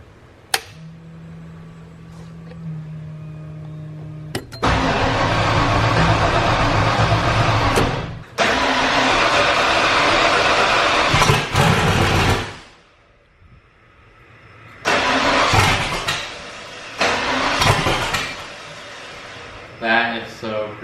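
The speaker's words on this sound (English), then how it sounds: "let's see if it'll crank" A Ford Bronco engine fitted with FiTech fuel injection cranks in loud bursts that catch and roar, cut out, then fire again in shorter surges, with a low electric hum before the first attempt.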